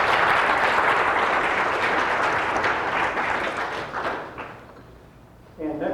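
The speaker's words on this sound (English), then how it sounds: "Let's give them a round of applause." An audience gives a round of applause for two speakers at an ISSA gathering, dense steady clapping that fades out toward the end before a voice starts.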